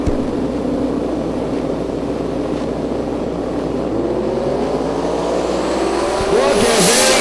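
A 2004 Cobra drag car with a 648 cubic inch race engine at a drag racing event, its loud sustained engine roar holding steady for several seconds before a rising, screaming surge near the end.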